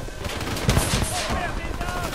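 Gunfire in Call of Duty Black Ops 3 campaign mode, rapid bursts of automatic shots with a heavier blast near the middle, continuous and loud.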